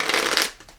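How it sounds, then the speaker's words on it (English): A deck of playing cards is shuffled up close in a quick, crisp riffle of papery flutter that tapers off within a second, with no talk over it. "So we are reshuffling it all up."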